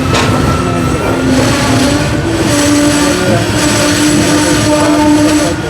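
A train on the Patna to Rajgir line braking as it draws into a station near Banka Ghat, with steady rolling rumble and sustained metallic brake squeal running throughout, loud and close from inside the coach.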